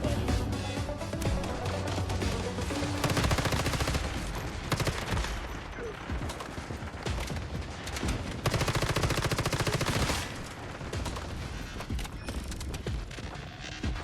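Dense, loud bursts of automatic gunfire and fusillades in Once Human Mobile fill the clip almost continuously, with brief dips, over layered game effects.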